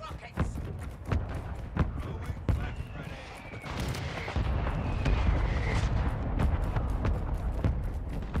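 Incoming strike explosions in Modern Warfare II on PlayStation 5 rumble as a dense run of heavy booms and sharp thuds, with a louder sustained roar building in the second half and faint voice chatter underneath.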